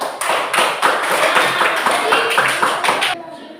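Schoolchildren in a classroom clap their hands together in a quick rhythmic burst of loud, sharp claps, tightly grouped, ending abruptly after a few seconds.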